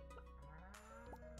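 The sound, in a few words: sheep bleating in Stardew Valley video game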